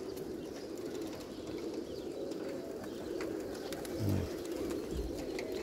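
A large flock of pigeons circles overhead outdoors, soft cooing and faint wing flutters in a steady distant wash, with a slightly louder burst of calls near the end and no talk.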